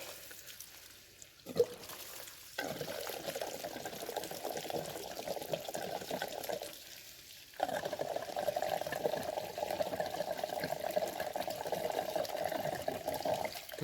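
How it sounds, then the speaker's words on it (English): New fuel is poured into the tank of a 2002 Harley-Davidson Road Glide, a steady splashing liquid stream in two long pours separated by a brief pause, with a clunk as the pouring resumes. "we're going to put the new fuel in here"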